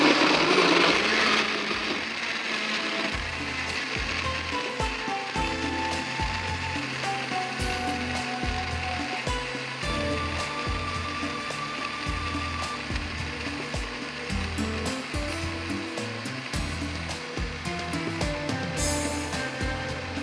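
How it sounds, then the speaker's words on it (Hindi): A blender runs steadily and loudly for the whole stretch, blending a saffron vermicelli mixture, its motor churning with a rough, rattling pulse and no one speaking. "अब बस ब्लेंडर को चलाएंगे बहुत अच्छे से।"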